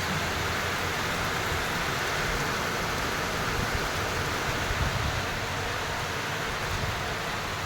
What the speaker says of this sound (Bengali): বৃষ্টি প্রচুর চারিদিকে, দেখছো ঝমঝম ঝমঝম করে বৃষ্টি